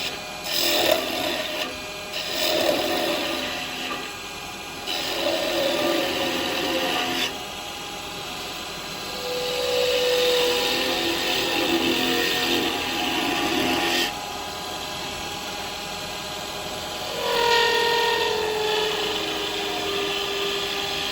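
Carbide tools cutting a spinning top on a wood lathe, a steady rubbing, rasping scrape that comes in several passes of a few seconds each, close and loud with faint tonal chatter, no talk.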